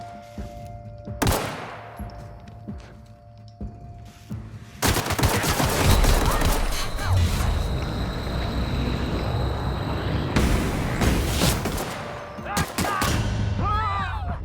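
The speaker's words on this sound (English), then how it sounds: "Who is shooting at me?" Gunfire aimed at the player in The Outer Worlds: sustained bursts of rapid shots rattle densely for several seconds, mixed with in-game ambience, while a player talks over the shooting.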